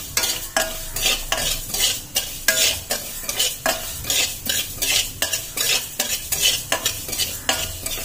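Mustard seeds with a little cumin dry-roasting in a pan, a spoon scraping and stirring in quick repeated strokes with soft crackling throughout, close and fairly loud, no voices.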